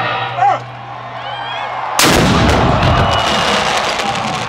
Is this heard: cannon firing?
yes